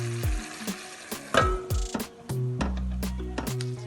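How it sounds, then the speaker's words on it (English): Chicken simmers in a covered pot, giving steady soft bubbling and sizzling, with scattered clicks and light knocks throughout. "I'm going to cover and let it simmer for 45 minutes"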